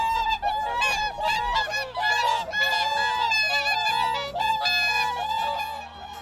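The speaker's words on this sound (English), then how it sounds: "we'll also be visiting the wintering range of the truly impressive whooper swans" Whooper swans calling in their Hokkaido wintering range, a dense chorus of loud, overlapping trumpeting honks from many birds close by, continuous throughout.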